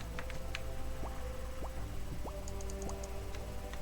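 Watery drips and bubbly plinks rise in pitch one after another, about four in a steady rhythm, over a constant low ambient hum, as a sword is cooled in a waterfall in Old School RuneScape's Giants' Foundry.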